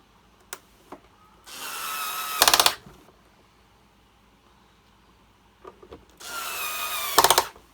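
A power driver spins screws on a Hoover Turbopower 1 vacuum cleaner during refurbishment, two loud sustained whirring bursts of a couple of seconds each, separated by quiet handling clicks and taps.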